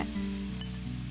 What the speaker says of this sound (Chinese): 接着翻炒